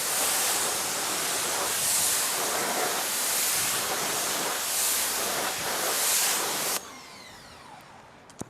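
Water sprays hard and steadily onto car wheels in a broad, continuous hiss during a summer wash in the sun, then stops abruptly, leaving a quieter trailing spatter and drips.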